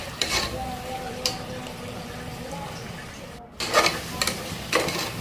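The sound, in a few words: stirring onions and tomatoes frying in a pan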